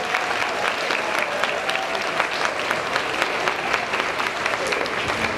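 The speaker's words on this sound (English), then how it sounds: "if we could give one more big round of applause to all the students" A school audience claps for students at a technology challenge celebration, sustained and even applause with sharp individual claps standing out across the whole span.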